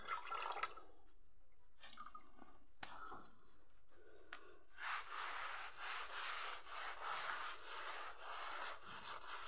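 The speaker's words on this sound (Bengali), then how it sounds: "যেইটুকুনি এঁঠো সেইটুকুনি আমি ঘরটা মুছে নেব শুকনো শুকনো করে" A wet cloth smeared with cow dung is wiped across a village house floor in repeated close, soft rubbing strokes with brief pauses between them, quiet and without talk.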